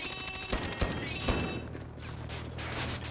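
Rapid automatic gunfire rattles in a zombies shooter video game, dense bursts of shots with a few sharper cracks, loud and continuous over the few seconds.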